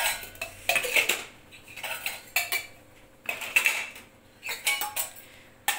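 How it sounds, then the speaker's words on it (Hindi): Dishes, pots and utensils are stacked in a hurry in a home kitchen, with a steady run of loud metallic clatters and clinks close by and no talking. "मम्मी बहुत जल्दी जल्दी बर्तन लगा रही है"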